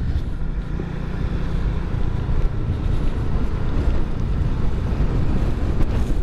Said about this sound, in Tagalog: malakas yung hampas ng hangin